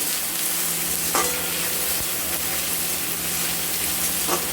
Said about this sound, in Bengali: টমেটো দিয়ে আমরা সামান্য লবণ দিয়ে দেবো দিয়ে দিলাম এক চিমচে লবণ লবণ দিয়ে আমরা এটাকে নাড়াচাড়া করবো